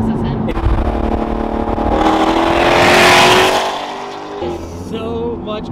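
A car overtakes on the freeway, its engine and tyre roar swelling to a loud peak near the middle and then fading as it pulls away, with people talking over it inside another vehicle.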